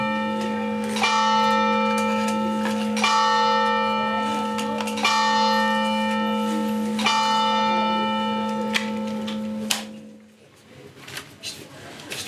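A church bell strikes four times at even two-second intervals, each resonant toll ringing on and overlapping the next, then fading into quiet room sound.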